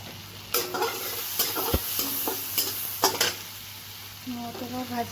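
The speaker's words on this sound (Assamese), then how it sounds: "নহৰুটো অলপমান ৰঙাকৈ ভাজি লওঁ।" Garlic sizzles in a hot wok with cumin and butter while a spoon stirs it, giving repeated scraping clinks over a steady frying hiss, with a low hum and a faint voice near the end.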